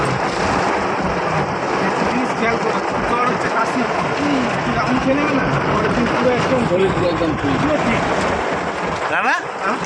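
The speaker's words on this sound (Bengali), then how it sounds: "বৃষ্টিতে গাড়ি চালাতে কষ্ট হয় না হ্যাঁ কষ্ট হয়" Heavy rain pours steadily over a moving car during a drive, a dense continuous wash of noise with people talking inside throughout.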